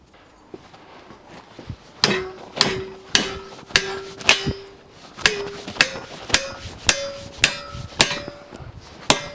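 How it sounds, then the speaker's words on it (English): A hammer strikes a TIG welded metal sample for a bend test, about a dozen loud ringing metallic clangs in a steady rhythm, each with a sustained ring and rising pitch as the piece bends, close with no talking. "We'll give it a little bit of a bend test first."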